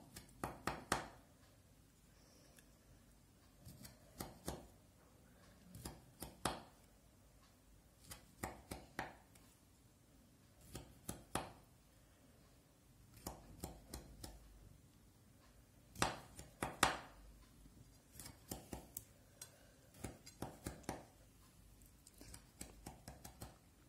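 Knife cutting a tomato into small zigzag triangles, the blade pushing through the skin and flesh onto a board in repeated short, quiet cuts that come in clusters, close and soft.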